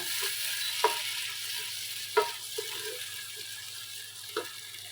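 Chopped carrot stirred in a pan for Arabian chicken kabsa, a soft low sizzle broken by a few scraping clinks of the spoon against the pan, with no talk.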